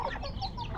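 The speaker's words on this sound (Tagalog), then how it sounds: "Yan, naglahok na ang pabo, pato, manok." Clucking and squawking from a mixed flock of turkeys, ducks and chickens stirred up at a muddy farm, a short, busy burst of close fowl calls.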